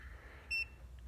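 A single short, high electronic beep from an Autowit Supercap 2 jump starter counting down, sharp and close over quiet background hum.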